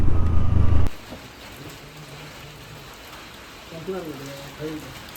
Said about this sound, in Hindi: फिर से बारिश होने लगी।